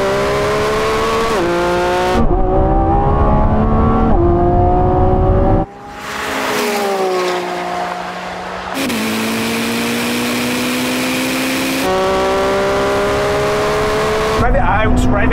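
Several powerful supercar engines from a Lamborghini Revuelto, Ferrari 296 and Ferrari SF90 in a drag race roar and rev hard through rapid gear changes, pitch climbing and dropping as they accelerate close by.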